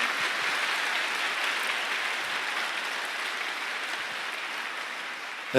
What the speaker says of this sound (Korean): 우리 시온 성가대의 아름다운 크리스마스 오라토리오 노엘 다시 한번 뜨거운 박수로 감사드립니다.